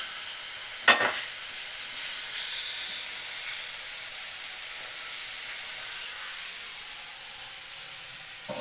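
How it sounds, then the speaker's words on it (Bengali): Onions sizzle gently in a pan over a low gas flame, a soft steady frying hiss after a brief sharp clatter near the start. "এইভাবে পেঁয়াজ দিয়ে আমি 2 থেকে 3 মিনিট রান্নাটা করব।"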